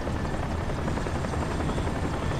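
A video game helicopter in Crysis: steady rotor thrum and engine roar fill the space continuously, loud and close, with no voices.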